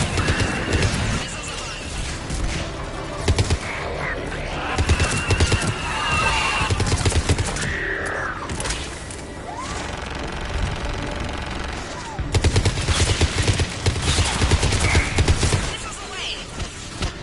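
Bursts of automatic fire from a mech's mounted gun in Mass Effect 3 rattle in loud, repeated volleys amid explosions and chaotic battle noise.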